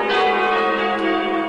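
Church bells of St Andrew's Church in Chew Stoke, Somerset, ring out steadily and loud, their overlapping tones sustained and blending into a continuous wash with no talk over them.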